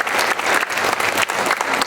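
A church congregation gives a burst of loud, dense applause in praise during a sermon on missions, steady clapping filling the whole short stretch with no talk over it.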